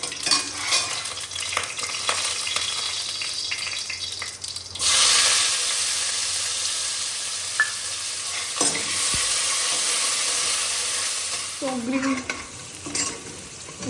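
Black mustard seeds and cumin sizzle and crackle in hot oil for fried rice, with stirring and clinks in the pan, a louder burst of frying midway, and tap water running near the end.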